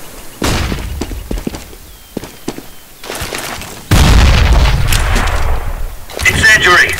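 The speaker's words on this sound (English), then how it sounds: "Throwing flashbang." A flashbang grenade goes off in a tactical shooter game, a sudden loud boom at about four seconds that leaves a sustained roar. Earlier thuds and gunfire-like hits come before it, and voices talk over the action.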